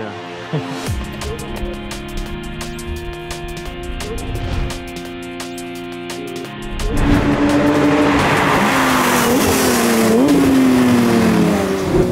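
A race car driven on a track with a GT Drive steering wheel setup, engine note rising and shifting through fast gear changes with tire squeal, loud and continuous, growing more intense in the second half.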